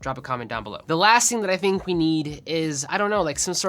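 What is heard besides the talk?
No everyday noises stand out.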